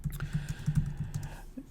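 Fingers type a class description on a computer keyboard, producing a quick, close run of soft key clicks with a steady, slightly uneven rhythm.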